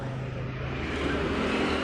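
A Yamaha NMAX scooter engine, started remotely through an alarm app, runs with a steady low idle rumble and a slight rise in level toward the end, close and continuous with no talk over it.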